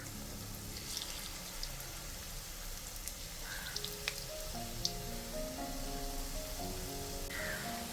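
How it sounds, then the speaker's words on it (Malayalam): Soft sizzling and crackling of pakkavada deep frying in hot oil, with scattered small pops over a quiet background and faint music. "നമ്മളിത് ഓയിലിലാണ് കേട്ടോ വറുക്കുന്നത്."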